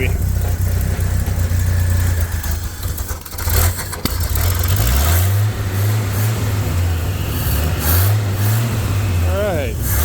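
A 1941 Dodge Weapons Carrier engine runs loud and close, settling into a rough idle before it is revved several times with rising and falling pitch.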